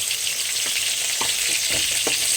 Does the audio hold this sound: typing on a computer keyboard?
no